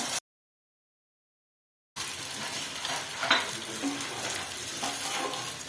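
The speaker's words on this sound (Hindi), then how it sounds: "इसको फ्राई करेंगे, हल्का सा ऑयल ही डालेंगे हम" Chicken shami kababs fry in a little oil in a pan, a steady close sizzle that starts abruptly after a short silence and carries on with faint stirring and scraping, no talk.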